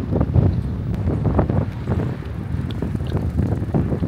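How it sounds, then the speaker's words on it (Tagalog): Strong wind buffets the microphone in a steady, loud roar with gusty surges and low rumbling throughout. "Sobrang lakas ng hangin."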